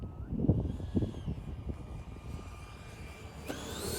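An FMS Scorpion 90mm V2 electric ducted-fan RC jet sweeps low for a touch and go, a steady whining roar with a rising tone and a brief clatter of wheels touching down.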